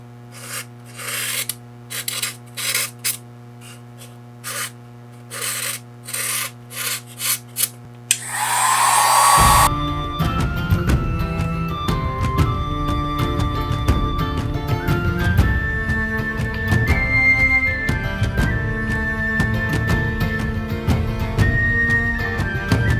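A heat tool blows in repeated short bursts over a low motor hum while heating styrofoam to texture the ground of a Lovecraft-themed Hemlock Cottage diorama base; steady music then takes over.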